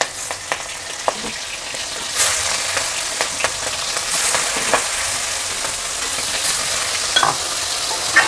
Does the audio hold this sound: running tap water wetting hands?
no